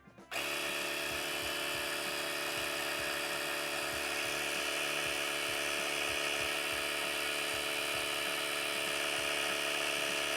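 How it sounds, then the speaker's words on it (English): An Auxito portable tire inflator pumps up a dirt bike front tire set to 14 PSI: a steady, loud, buzzing electric motor drone that kicks in almost at once and holds evenly, with no voices over it. "Definitely pumping up."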